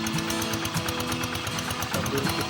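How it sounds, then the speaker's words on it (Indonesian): Hand tractor engine running steadily at close range during a tractor enthusiasts' show in Magelang, with a rapid, even chugging pulse and no talk over it. "Sambil kita saksikan atraksi daripada anggota traktor Mania Magelang ini ya"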